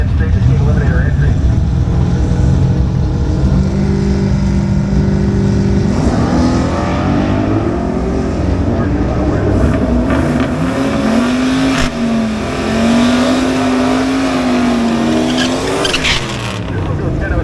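Drag racing cars accelerating hard at Hot Rod Drag Week, loud engine roar rising in pitch with tire squeal and rumble, under an announcer's continuous commentary.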